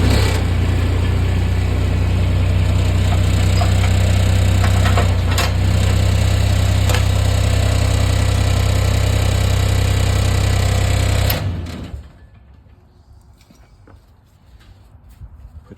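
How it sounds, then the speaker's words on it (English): A UTV engine runs steadily with a constant drone while its hydraulics lower a snowplow cylinder, then it cuts out abruptly, leaving a quiet shop. "we're going to lower the cylinder down with the hydraulics"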